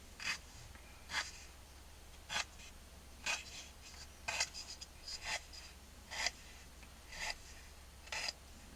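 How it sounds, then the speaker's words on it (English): Pencil drawing lines across a Hohner Verdi 1 accordion reed block during restoration: about nine short, scratchy strokes spaced roughly a second apart over a low steady hum, close and fairly faint. "I'm going to get a pencil and I'm going to make some lines with the pencil"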